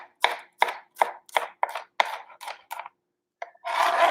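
A knife chops an onion on a cutting board for a black bean and corn salad in about nine crisp, evenly spaced strokes, then a pause and a rustle as the pieces are moved.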